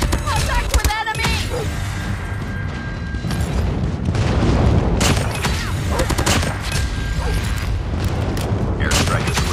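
Airstrike explosions in Call of Duty Mobile unfold as a dense, loud stretch of booming blasts and rattling gunfire that runs the whole time, with game announcer voice lines breaking in.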